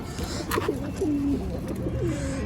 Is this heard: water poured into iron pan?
no